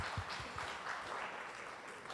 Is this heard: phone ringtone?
no